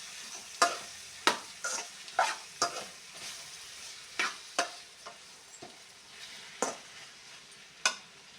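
Tomato, capsicum, carrot and potato frying in a pan for vegetable pulao, with a steady low sizzle under repeated sharp scrapes and knocks of a spoon stirring, roughly a dozen spaced strokes, close and clear with no talking.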